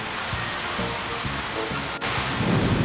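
Steady heavy rain with rumbling thunder, a continuous stormy wash of sound without voices.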